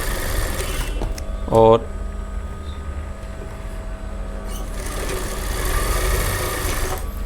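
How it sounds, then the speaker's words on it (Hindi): A sewing machine stitches a frill on a top in short bursts of close mechanical whirring, with a sharp clunk early on and someone speaking Hindi over it. "सबसे पहले हम फ्रिल पे सिलाई लगाते हैं यहाँ पर"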